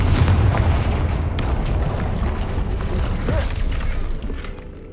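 A Confringo fire spell blasts in the Hogwarts Legacy video game, a loud, dense rumbling burst that fills the whole stretch and slowly fades toward the end.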